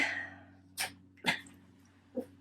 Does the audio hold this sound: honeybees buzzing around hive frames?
no